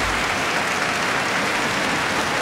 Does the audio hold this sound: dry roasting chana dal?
no